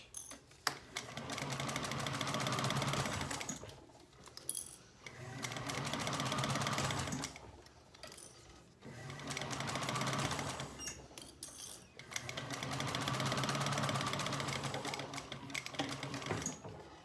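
A sewing machine stitches piping onto a vinyl handbag at a quarter-inch seam in four bursts of rapid, steady stitching lasting about three seconds each, separated by short pauses.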